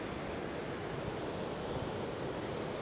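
Ocean tide washes in around shoreline rocks, a steady broadband rushing of surf and water, moderately quiet with some wind noise.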